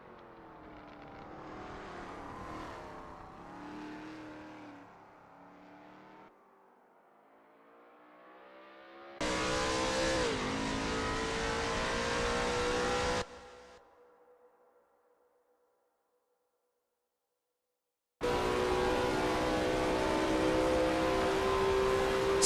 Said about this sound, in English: Sketty is expertly commanding that car through Ravazza.